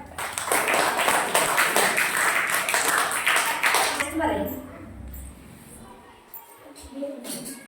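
Children and audience clapping at a government primary school play, a dense, loud burst of applause lasting several seconds that fades out, with voices heard talking over the end.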